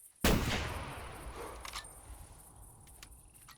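A single loud rifle shot fired at a black bear in the video game theHunter Classic, cracking sharply at close range and then ringing out in a long fading echo, followed by faint clicks.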